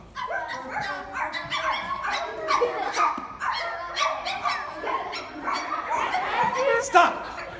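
A person imitates a high-pitched dog, giving a rapid string of yapping, yipping barks close to the microphone, with a lively classroom air around it.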